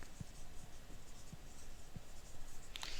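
Chalk or marker writing on a classroom board during a maths lecture, a few short scratchy strokes spaced irregularly and fairly faint against room noise.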